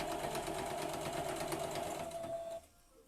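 A noisy older sewing machine stitches fabric for patchwork quilting, running a loud steady whirring, rapid mechanical clatter up close before stopping abruptly near the end.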